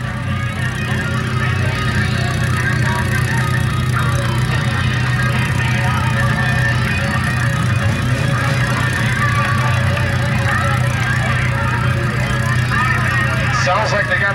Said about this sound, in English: Sounds like they got that 723 car fired up.